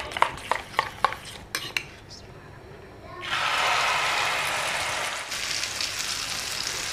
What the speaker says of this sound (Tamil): இப்போ முட்டையை சேர்த்துடும்.